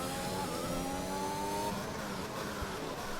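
A Formula 1 race car engine on a quick qualifying lap at the Hungarian GP in F1 2021: a high, steady engine whine that holds, then shifts pitch as it backs off, close and continuous with no talk.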